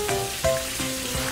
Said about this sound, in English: And I'm only frying a few pieces of chicken